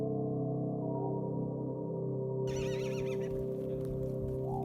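A horse neighs in rural Mongolia, a high whinny rising over steady low background noise near the end, fairly close and alone with no talk.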